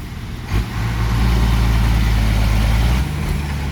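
A truck engine rumbles loudly and close as the vehicle reverses, the deep drone rising after a brief rev and holding steady before easing off near the end.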